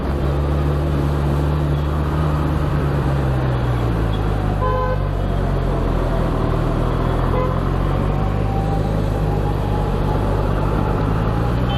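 A 2020 Kawasaki Ninja 1000 SX rides along a road with a steady engine drone and loud, constant wind rush, while horn toots from passing traffic sound in the background.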